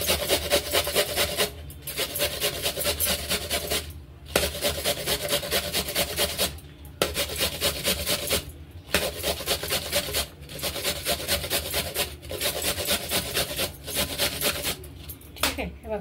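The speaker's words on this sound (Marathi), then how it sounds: "आता याला पण आपण किसून घ्यायचं।" A peeled carrot for veg momo filling is rubbed over a grater in quick, rhythmic rasping strokes, with short regular pauses between runs.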